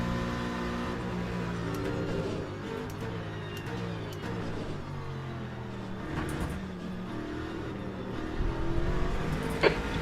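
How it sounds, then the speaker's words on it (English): A McLaren race car's engine roars in Le Mans Ultimate at Monza, a steady high-revving drone with shifting pitch, close and continuous, with a faint voice in the background. "That McLaren is zooming."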